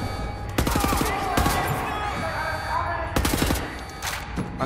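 Gunfire from Wolfenstein: The New Order, several sharp bursts of shots near the start and again around three seconds, over game music and effects, with a voice talking in between.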